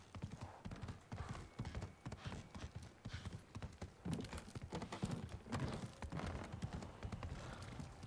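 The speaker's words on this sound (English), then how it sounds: "How can just riding a horse be this satisfying?" Rhythmic clip-clop of horse hooves while riding in the video game Ghost of Tsushima, a steady galloping beat, close and continuous, with faint ambient game sounds beneath.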